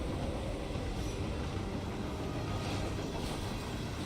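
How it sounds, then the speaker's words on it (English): A moving train in a video game rumbles and rattles in a steady, close, continuous roar, with faint wheel squeal and no voices. "We're on a moving train."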